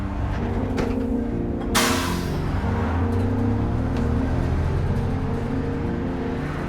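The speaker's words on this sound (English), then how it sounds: "The bus rolls out of town, away from Chellamuthu's mud hut and his mother" A bus engine hums and whirs as the vehicle pulls away and rolls out of a rural town past cows and a river, steady and fairly close, with a brief hissing burst like doors or air brakes early on.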